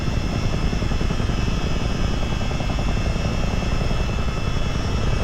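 A US Army Chinook helicopter flies during a North Carolina exercise in Microsoft Flight Simulator, its rotor and engine drone loud, dense and unbroken throughout, with no voices.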